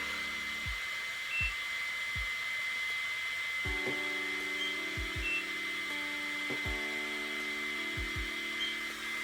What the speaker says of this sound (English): It sounds like it's a hair dryer use.